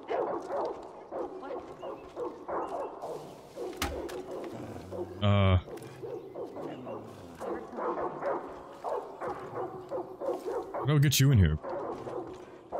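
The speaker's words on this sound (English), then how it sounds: "God, those dogs barking, Jesus" Dogs bark in the video game Far Cry New Dawn, several loud, close barks in bursts amid game sounds, with someone talking over them.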